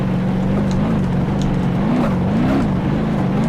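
A car driven in the BeamNG Drive video game, its engine a steady close drone whose pitch wavers and rises briefly as it corners, playing alone without talk.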